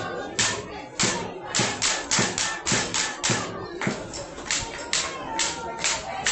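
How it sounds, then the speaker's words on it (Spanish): At a 14U Babe Ruth World Series baseball game in Eagle Pass, Texas, the crowd gives a standing ovation to the pitcher. The clapping is steady and rhythmic, about two claps per second, and a commentator speaks over it. "Se merece ese aplauso de pie que le está brindando la porra"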